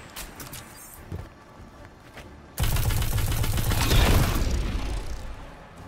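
A sudden loud burst of rumbling blasts and crackling gunfire-like booms in the video game Destiny 2 kicks in midway, sustained and dense after a quieter stretch.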